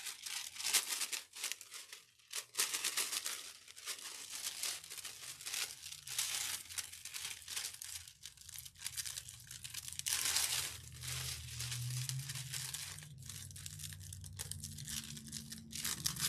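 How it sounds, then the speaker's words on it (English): Metallic foil transfer carrier peeled off a garden gazing ball, a close, continuous crinkling and tearing rustle with short pauses, heard alone without talk. "now you get to do what I call the peel and reveal"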